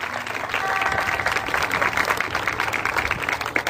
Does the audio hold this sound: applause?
yes